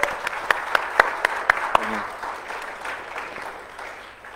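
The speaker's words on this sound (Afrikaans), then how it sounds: "Ja, maar ons kan beter aan 'n klap as dit." Audience applause ripples through a hall, with sharp claps standing out early before fading into a softer, thinning patter, while a voice speaks faintly underneath.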